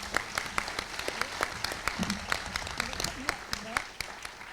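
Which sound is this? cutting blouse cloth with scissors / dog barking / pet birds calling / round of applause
round of applause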